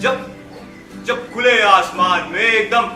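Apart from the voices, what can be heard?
No everyday noises stand out.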